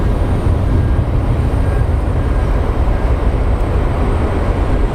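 An airliner in Desert Gold livery departs Phoenix Sky Harbor with a loud, steady low roar of jet engines that stays constant and rumbling for the whole stretch.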